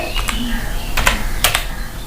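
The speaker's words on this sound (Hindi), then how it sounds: "आप गूगल में टाइप करेंगे" Keys are tapped on a computer keyboard in a few separate short bursts, close and fairly clear, while someone types a search into Google.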